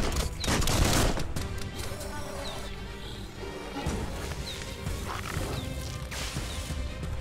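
Bullets fired during combat in the Biomutant video game, a run of gunshots and impacts continuing through the stretch amid game effects, with some talk in the background.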